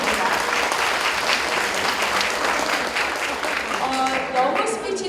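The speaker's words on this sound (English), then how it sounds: "So I want to give them another round of applause." Steady applause from an audience at an English speech contest fills the whole stretch, dense and even, with a few voices faintly audible toward the end.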